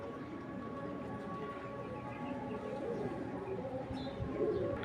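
A racing pigeon coos softly and repeatedly, the low murmuring calls faint and close, with a few light chirps mixed into a quiet background.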